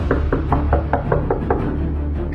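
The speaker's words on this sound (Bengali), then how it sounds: "দরজার উপর ধাক্কাও থামল না।" Knocking on a wooden door as a radio drama sound effect, roughly eight steady, evenly spaced raps close up against a low background hum, with no voices.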